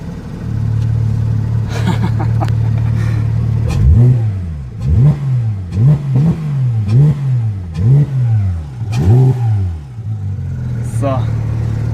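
Porsche 911 GT3 RS of the 991 generation with an Akrapovic exhaust, idling and then blipped in a series of sharp, rising revs that fall back quickly, loud and close, under a background voice.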